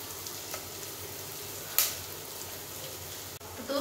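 Onions fry in a pan until brown for rajma, giving a soft, even sizzle and crackle throughout, with one brief clink partway through and no talking.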